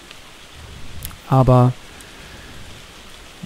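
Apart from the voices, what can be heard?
rain falling in the video game ARK Survival Evolved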